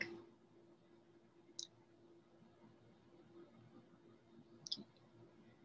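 Two faint, isolated computer mouse clicks about three seconds apart over a low steady hum, very quiet, while searching on a website.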